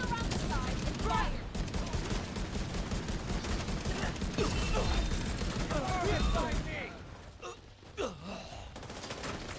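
Sustained rapid gunfire fills a video game firefight as a squad chases a target, dense bursts over roughly six seconds with voices mixed in, then the shooting thins out into quieter scattered sounds.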